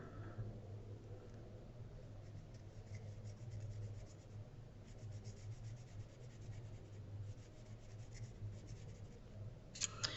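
A pencil eraser rubs back and forth over a cup drawing, lifting shiny graphite from the outer layer; a faint, close, continuous scratchy friction with no talking.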